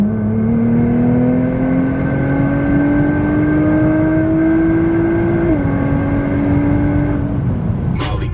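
A 700hp Nissan GTR pulls hard on an empty road across reservation land, its engine note climbing steadily in pitch for several seconds before a brief dip at a shift, loud and close throughout.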